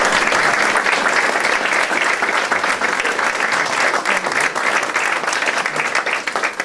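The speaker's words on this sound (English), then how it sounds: "So let's give both these individuals a round of applause." Steady, loud round of applause from a crowd at the unveiling of a diamond sports complex, honoring two softball coaches, with dense clapping continuing for several seconds before easing slightly.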